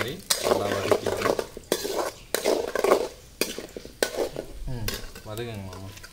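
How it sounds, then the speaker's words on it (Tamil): Urad dal sautéing in hot oil for a pirandai thuvaiyal sizzles beneath repeated clanks and scrapes of a spoon against the pan, while voices talk intermittently over the cooking. "உளுத்தம்பருப்பு போட்டு நல்லா வந்து கோல்டன் பிரவுன் வர மாதிரி நல்லா வதக்கிடணும்."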